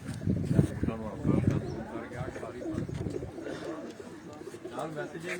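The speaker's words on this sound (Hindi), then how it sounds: "ये तकरीबन 160-168 कबूतर हैं" Caged pigeons, around 160 to 168 birds, coo in a low, steady murmur of overlapping calls, heard faintly beneath someone talking throughout.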